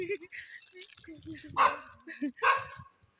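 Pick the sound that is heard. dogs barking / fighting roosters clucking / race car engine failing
dogs barking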